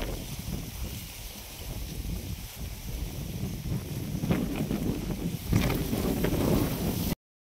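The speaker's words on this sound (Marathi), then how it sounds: "वारं पण सुटले." Wind gusts outdoors in an open field, a steady rushing roar buffeting the microphone, growing stronger and rougher toward the end before cutting off abruptly.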